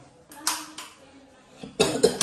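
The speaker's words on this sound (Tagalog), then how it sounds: "Sorry, inuubo kasi ako." A person coughs a few times indoors while touring a house near Tagaytay, short sharp bursts with a louder pair of coughs near the end, fairly faint overall.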